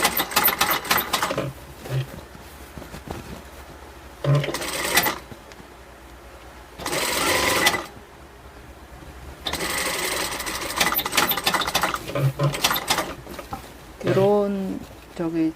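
Sewing machine topstitching a single row along a shirt pocket, running in several short bursts of varying length between pauses, with talk heard between the runs.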